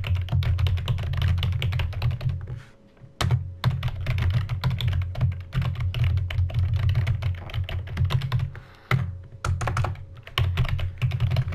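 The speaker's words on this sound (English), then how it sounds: "This is how fast I can type." Rapid typing on a computer keyboard, dense clattering keystrokes close up and loud, running almost continuously with two brief pauses.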